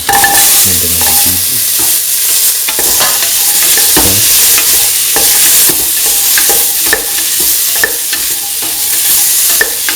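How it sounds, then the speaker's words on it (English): Vegetable pieces and tomatoes sautéing in a pan for a lentil, winter melon and coconut rice dish, with loud continuous sizzling and frequent scraping stir strokes close by. "saute with the main pieces with the tomatoes"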